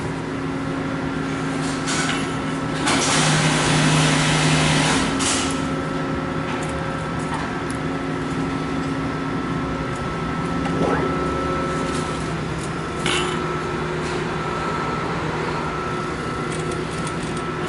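A sewing machine stitches the hem of a blouse with a continuous mechanical hum and whir, steady and close, with a brief louder stretch near the start.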